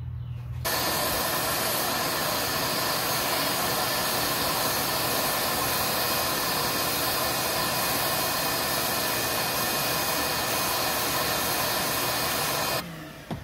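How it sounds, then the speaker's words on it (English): A shop vacuum runs in a garage while a stripped valve cover bolt hole on a Honda engine is tapped, its steady, even roar starting abruptly and holding for several seconds before switching off. "I'm going to get the vacuum back up here, because this will make some shavings too"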